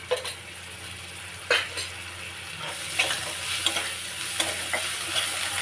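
Ginger with coriander, cumin and chili sizzles in a hot pan, a steady frying hiss broken by a few sharp scrapes and taps of the spatula as it is stirred.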